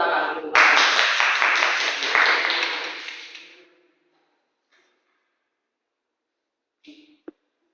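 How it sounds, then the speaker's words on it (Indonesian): An audience applauds after a student's critical speech at STAIN Pamekasan, with a dense burst of clapping that starts abruptly, fades out over about three seconds, and gives way to near silence with a faint click at the end. "Tepuk tangan dulu."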